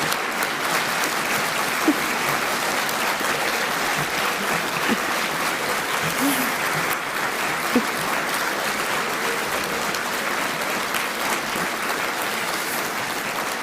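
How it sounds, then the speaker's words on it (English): Sustained applause from a large audience at an Aston University graduation ceremony, a steady, dense wash of clapping that holds at an even level for the whole stretch without pause. "Please give them a huge and rousing round of applause."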